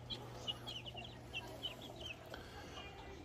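Four-week-old chicks in a brooder under a heat lamp give a string of small, high, soft peeping clucks, fairly faint over a steady low hum.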